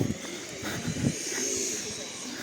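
Soft, low cooing from pigeons in Truskavets rises and falls close by, mixed with a voice talking and some background hiss.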